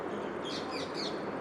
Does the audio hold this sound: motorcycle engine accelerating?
no